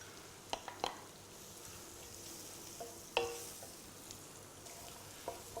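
Thinly sliced carrots and bacon frying in a pan, a faint steady sizzle with occasional scrapes and clicks of a utensil stirring, quiet and close, no talking.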